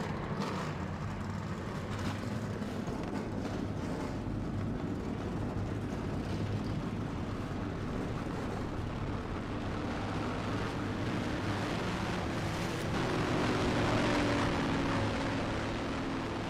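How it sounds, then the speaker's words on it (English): Race cars rolling off together at Lime Rock Park, a steady low engine drone and rumble that holds throughout and swells slightly near the end, with no talking. "Cars rolling off here."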